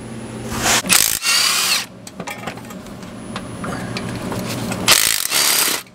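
An air impact wrench rattles in hard bursts while removing head bolts from a Duramax diesel engine, a long first burst, then a second, lighter mechanical clicks and handling between, and a final burst near the end, close and loud.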